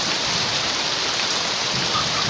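Heavy monsoon-season downpour during a flood, a dense, steady roar of rain hammering surfaces without pause, loud and close, with no voices.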